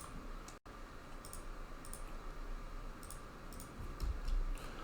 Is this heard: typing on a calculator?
yes